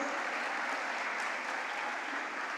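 An audience applauds at an award ceremony with steady, even clapping that carries on throughout, moderately quiet and heard from within the hall, with no voices over it.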